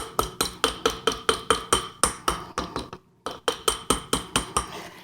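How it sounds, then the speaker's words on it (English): A small jeweller's texturing hammer taps a wire ring in rapid, evenly spaced metallic strikes, loud and close, with one brief pause before the steady rhythm resumes. "I'm going to take my other type of hammer and I'm just going to tap"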